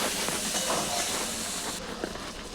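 Ground spice masala with salt and green chillies frying in hot oil for a Bengali fish curry, an even, dense hiss of sizzling that eases slightly partway through.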